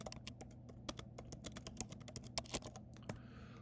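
Rapid typing on a computer keyboard, a dense run of close, crisp keystrokes in an uneven rhythm with a few harder taps, heard alone over a steady low hum.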